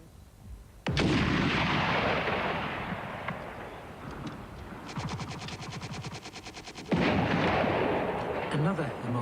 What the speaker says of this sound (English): That's a shot that would have immobilized the vehicle.